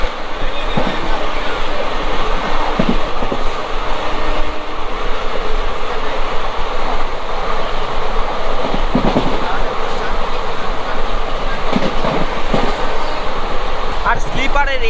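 Vibhuti Express train, Howrah to Varanasi, running at speed, with steady loud rumble and wind rush from a sleeper coach, regular wheel clacks over rail joints and brief squeals, and a voice talking faintly underneath.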